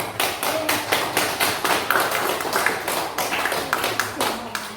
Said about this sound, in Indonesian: tepuk tangan untuk kelompok 2 sudah menyimpulkan.